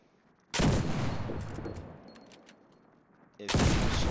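Loud bursts of explosions and gunfire from a game, tanks hit by anti-tank rifles and projectiles, a heavy blast that rumbles and fades, followed by another sudden loud blast at the end.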